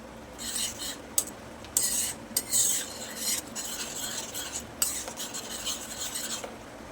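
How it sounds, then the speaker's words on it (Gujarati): A spoon stirs farali kadhi with freshly added chopped coriander in a pot, producing a series of close, rasping scrapes and light metallic clinks in uneven bursts over a faint simmer. "હવે બધું સરસ મિક્સ કરી લઈએ."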